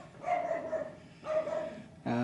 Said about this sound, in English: we've got a stupid dog somewhere not far away